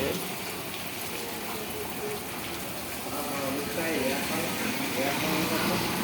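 Rainwater pours off a tin roof in an evening storm, a continuous even wash of splashing and pattering that swells slightly toward the end, with a murmur of voices underneath.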